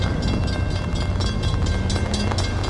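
A coal train rolls past in the rain at Mount Hope, West Virginia: a steady, loud, unbroken rumble and rush that fills the whole stretch with no voices.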